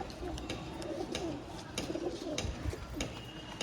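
Several pigeons coo softly at a loft among a group of over a hundred birds, low throaty calls repeating over light background clatter.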